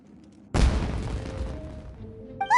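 Fireworks in Genshin Impact go off with a sudden heavy boom, followed by a rumbling, crackling decay, and then a brief tonal chime at the end.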